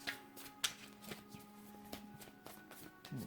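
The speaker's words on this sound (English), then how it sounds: "One more shuffle." Tarot cards are shuffled by hand in a quiet room, soft papery riffles and light taps in irregular bursts, close and faint, with no talk.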